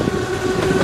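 Loud, steady rumble of a moving train with a sustained tonal hum, heard close up for a brief moment.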